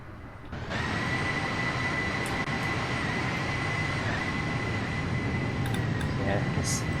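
A freight train rolls past near Waterloo in London, a steady, loud rumble heard from inside a landing Embraer 195 airliner, with continuous cabin noise and a few faint higher tones near the end.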